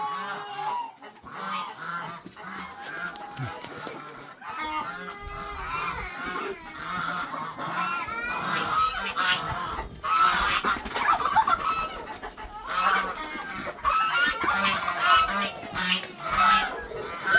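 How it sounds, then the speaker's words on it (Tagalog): A flock of farm geese is driven along, honking loudly and continuously in overlapping, jostling calls close by, with a few brief shouts from a person mixed in. "bugawin mo na yan papunta dyan yung mga gansa"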